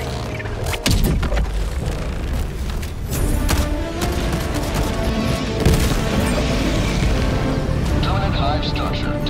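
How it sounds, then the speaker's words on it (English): An orbital strike explosion in the video game Helldivers 2 booms and crashes loudly. A continuous wash of blasts and rumbling debris follows, with speech over it. "Requesting orbital strike."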